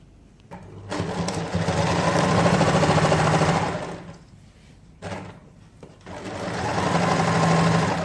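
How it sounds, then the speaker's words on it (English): A sewing machine stitches a dress seam in two long bursts with a short pause between, its motor whirring steadily and loudly up close. "So now go to the sewing machine."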